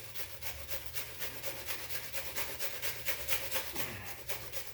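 Cheese is grated on a cheese grater for an overloaded mac and cheese, making rhythmic rasping strokes close by, about two per second, each a short scraping burst that rises and falls in a steady back-and-forth pattern.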